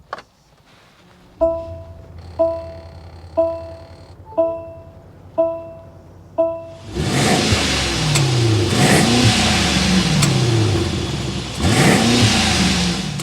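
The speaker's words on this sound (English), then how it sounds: "start up this bi-turbo so you can hear that exhaust note" A 2024 Mercedes-Maybach GLS600 with its bi-turbo engine starts after six evenly spaced door or warning chimes, then catches and settles into a steady, rumbling exhaust idle with a couple of light revs, recorded close by.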